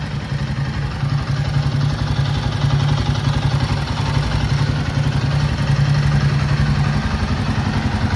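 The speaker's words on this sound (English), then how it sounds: "that is the engine noise" A Royal Enfield Himalayan 450 motorcycle engine runs steadily at idle, a continuous close, loud rumble with a fine mechanical clatter throughout, no voices.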